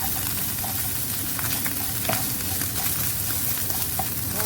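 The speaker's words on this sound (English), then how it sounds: "It's really important to fry them in the oil because that will also help release the flavor." Spices sizzling and frying in hot oil for masala potatoes, a loud, steady crackling hiss with scattered sharper pops close by, continuing without pause.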